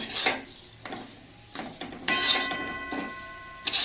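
A spoon stirs a coconut barfi mixture in a pan over a very low gas flame, giving scattered scraping strokes and light metallic clinks at irregular intervals, close by and with no talking.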